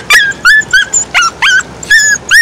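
A small dog barks and yelps at a lizard in a quick run of high-pitched, close, loud yips, about nine in under three seconds, with no talking over them.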